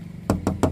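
Three sharp knocks on the metal door of a 1990 Toyota Starlet SE 1.3, evenly spaced, close and loud, with a hollow tinny ring after each rap and a low hum underneath.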